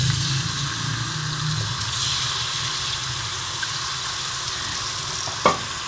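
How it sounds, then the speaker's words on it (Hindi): Chicken sizzling steadily as it hits hot ghee in a karahi, a continuous loud frying hiss with stirring, plus a brief clink of a utensil near the end. "घी गर्म हो चुका है, अब हम इसमें चिकन डालेंगे।"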